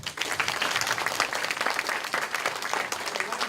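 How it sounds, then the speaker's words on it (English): Audience applause at a center opening event, a dense burst of many hands clapping steadily for a few seconds, moderately close, with no talk over it. "we'll applaud for those donors who are not here today"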